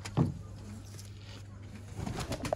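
A performing pigeon coos once close by near the start, with fainter cooing later over a steady low hum in the background.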